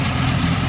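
An old tractor engine idles in a short burst of steady, low, rumbling chug close by.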